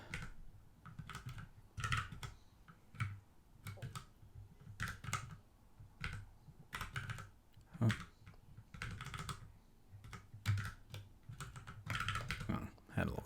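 Computer keyboard typing in irregular bursts of close clicks and keystrokes while someone mutters quietly under it.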